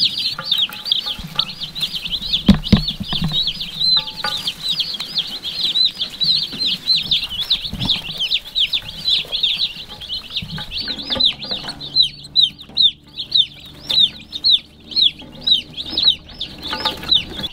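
Hatchery chicks packed in a shipping box peep shrilly and continuously, a dense high chorus close by with occasional rustling and bumps.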